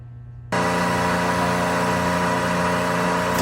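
A Busch vacuum pump switches on abruptly after a brief quiet hum, then runs with a loud, steady mechanical drone and hiss right up close, unbroken and without talk.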